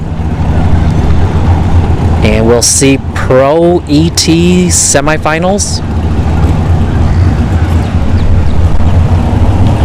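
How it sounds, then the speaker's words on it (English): Drag racing cars fired up at a dragstrip during an NHRA bracket series event, a steady loud engine rumble running throughout under a commentator's voice. "I hear some cars fired up."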